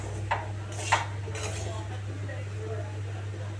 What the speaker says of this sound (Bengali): কড়াইশুঁটি ছিল ঘরে, তাই কড়াইশুঁটি দিয়ে আরেকটু নাড়িয়ে নিলাম